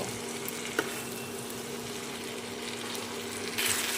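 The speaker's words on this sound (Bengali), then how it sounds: "এছড়গুলো দিয়ে ভালো করে আরও দু মিনিট কষিয়ে নেব" Boiled jackfruit pieces frying in a pan for a jackfruit-prawn dish, a steady soft sizzle with a single sharp clink of stirring and the frying growing a little louder near the end.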